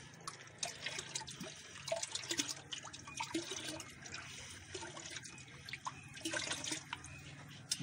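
Water poured to flood a homemade waste decomposer mixture, a steady close splashing and gurgling rush with small surges, heard alone without talk.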